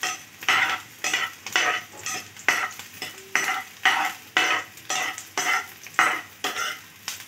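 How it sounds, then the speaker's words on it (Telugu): Onions and chili frying in a pan, stirred in a steady rhythm of about a dozen scraping strokes over a continuous close sizzle, with no talking. "చిల్లీని కూడా కొంచెం ఫ్రై చేసేసుకుందాం."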